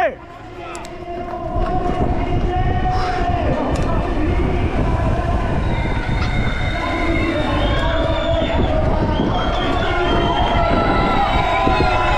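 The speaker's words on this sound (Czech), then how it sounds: "Chceme vidět vláček!" A small ride train rumbles along steadily with a rhythmic clatter, while a crowd chatters and voices call out nearby throughout.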